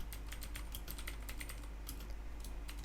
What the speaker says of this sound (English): I have to type the full address or the full name